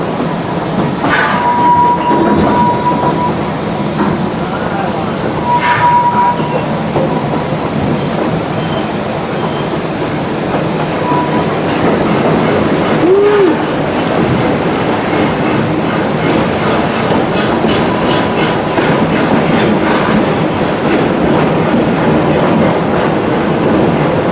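A small propane-burning steam locomotive at the Six Flags St. Louis amusement park rumbles along loudly and continuously, wheels rattling on the track with occasional faint squeals and a brief higher whistle-like tone.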